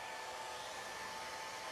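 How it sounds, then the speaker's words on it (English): A hairdryer blasts a paint wash dry on a painted fire and lava elemental miniature, a loud, steady whooshing hum held without a break and with no talk. "I will hit this with a hairdryer real quick just to dry that that wash down"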